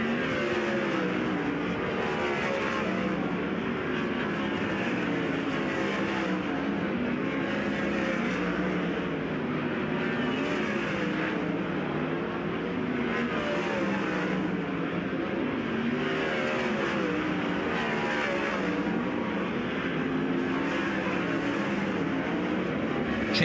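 Sprint cars lap Perris Auto Speedway during a night practice session, a continuous loud engine drone with regular surges as cars pass, going on steadily for over twenty seconds without talk.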